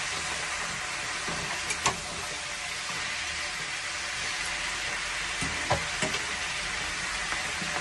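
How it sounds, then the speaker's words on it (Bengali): Shredded cabbage fries with spices in a hot pan, giving a steady soft sizzle with a few sharper clicks and stirring knocks scattered through. "আমি এই বাঁধাকপিটাকে ভেজে নিয়ে তার মধ্যে আমি মশলাগুলো দিলাম।"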